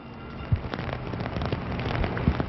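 Heavy rain from a strong storm sweeping across the Phoenix valley pours in a dense, steady wash, with a few sharper thumps of drops or gusts breaking through the continuous hiss.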